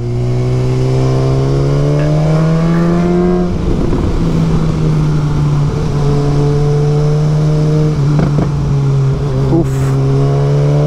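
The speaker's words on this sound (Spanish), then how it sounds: "Bonita suena mi escape." A car's exhaust revs steadily for about three seconds, with strong rising engine tones, then keeps droning and roaring loud and close through the rest of the ride, with brief extra bursts near the end.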